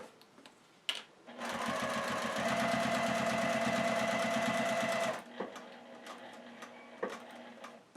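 Sewing machine with a 90/14 needle stitching a sunglasses case, running in one steady, fast, close burst of about four seconds between brief quiet handling sounds.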